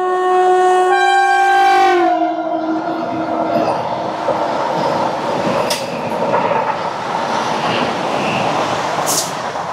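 A Purushottam Express passenger train, New Delhi to Puri, pulls away from a station with a long two-tone horn blast, then wheels rumble and clatter steadily over the rails.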